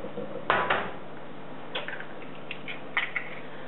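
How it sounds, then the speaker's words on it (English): Two eggs cracked into a dish in a home kitchen: two sharp, close taps at the start, then softer clicks and shell sounds a moment later, all at low volume with no voices. "crack 2 eggs in here."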